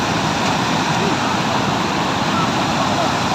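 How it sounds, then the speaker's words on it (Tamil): Steady broadband rush of falling water at Pykara Falls near Ooty, constant and fairly loud, like a nearby waterfall pouring without pause. "இருக்கு தண்ணி சவுண்டு"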